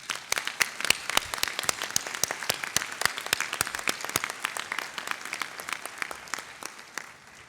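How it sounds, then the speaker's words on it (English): Warm, sustained applause from a seated audience at an annual meeting opening luncheon, a dense patter of many hands clapping that holds steady for several seconds before thinning out. "join me in giving a round of applause to our judiciary"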